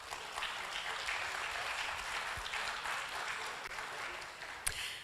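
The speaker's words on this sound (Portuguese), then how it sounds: "Uma salva de palmas, por favor." Steady applause from a seated audience at a Lisbon legal forum, a broad even wash of clapping with no distinct voices, ending on one louder clap.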